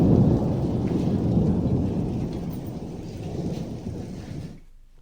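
After a lightning strike during a rainstorm, thunder rolls as a loud, deep rumble that slowly tapers over several seconds and then cuts off, with rain hissing underneath and no voices.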